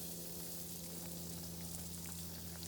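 Jalapeño popper stuffed burgers sizzle in a pan, a steady close frying hiss with a low hum underneath and no voices.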